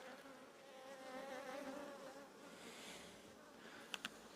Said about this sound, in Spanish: Matas una avispa y vienen 5 a comerse a la que has matado.